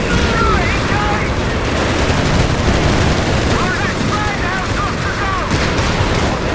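Dense battlefield gunfire from the video game Company of Heroes 3 during a 4v4 match, with continuous rifle and machine-gun bursts, distant booms and rumble, and chirping battle effects layered over a constant loud wash of noise.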